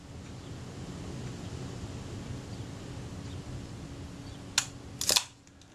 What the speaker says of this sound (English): that film advance got to the end of its stroke